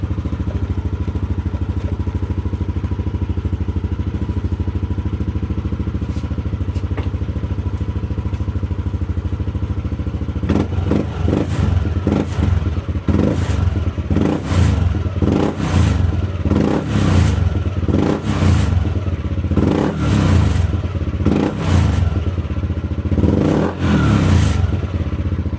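Yamaha Nmax V2 scooter engine with a newly fitted Daytona quick throttle, idling steadily at first, then revved in repeated sharp bursts close up, each blip rising and falling.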